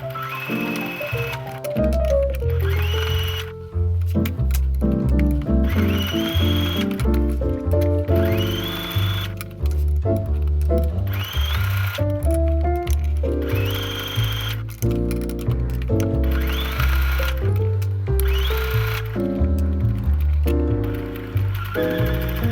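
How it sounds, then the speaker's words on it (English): A sewing machine runs loud and steady as it stitches a hem along the side of an old t-shirt being upcycled. Its whirring motor hum shifts in pitch as the speed changes, continuing for over twenty seconds without speech. "So we're just going to sew each side of that, so that's all nice and neat."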